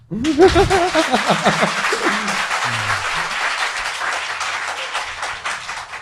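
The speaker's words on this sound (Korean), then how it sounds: "박수!" A studio audience breaks into applause, a dense burst of clapping sustained for several seconds with a few chuckles and a voice at the start.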